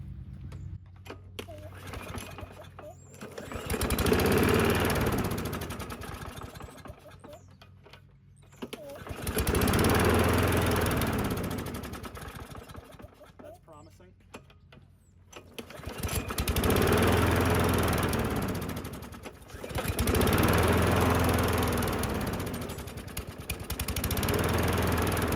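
A Craftsman push lawn mower with an automatic choke and no primer, in neglected condition, is pulled over and fires up, its small engine surging in several loud bursts between quieter pauses before running.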